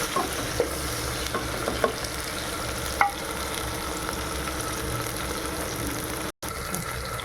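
Ground ginger-garlic paste fries in a pan of oil for a tomato and coconut milk biryani, with a continuous close sizzle, light stirring scrapes and a few clicks, and no talking.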